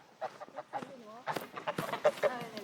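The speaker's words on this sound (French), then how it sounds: "Si mes poules, elles sont belles, elles ont bien grossi." Several plump farmyard hens clucking and squawking close by in a series of short, irregular calls, with people talking over them at times.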